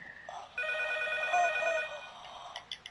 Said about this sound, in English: the phone's ringing! The phone's ringing!